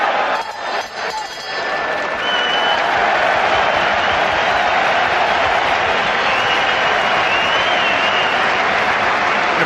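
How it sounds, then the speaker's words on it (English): Sellout boxing crowd applauding at the Festhalle in Frankfurt during an IBF light heavyweight title fight: after a brief quieter start, a loud, dense wash of clapping and crowd noise that holds steadily. "Appreciative sellout crowd."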